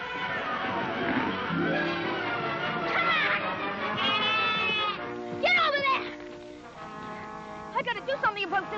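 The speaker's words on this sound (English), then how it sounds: "We gotta keep those sheep out of that water." Several wavering bleats from sheep, close by, repeating through the clip with music or voices mixed underneath.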